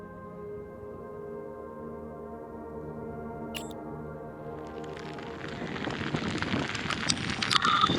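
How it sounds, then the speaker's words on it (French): Steady rain in the Alps patters and hisses, starting as a muted background and swelling into a louder, denser downpour toward the end. "Je crois que la pluie elle me lâchera pas de tout le voyage"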